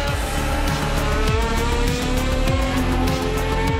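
A De Cadenet sports prototype race car at the Le Mans Classic drones loudly and steadily close by, its engine note rising and shifting through gears with a hint of tire squeal, no voices.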